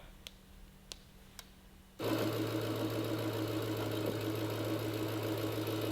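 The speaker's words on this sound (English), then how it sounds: "It says it has an engine start video." A Dodge Hellcat engine cranks and catches after a few faint clicks, then settles into a loud, steady idle that runs on without pause.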